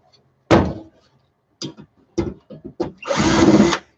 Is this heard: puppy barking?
no